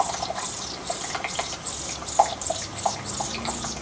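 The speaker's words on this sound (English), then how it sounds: "Water flowing out." Water streams out of a boiler's delivery pipe under about 50 psi, a steady splashing rush with small irregular spatters and drips, fairly close, with no voices.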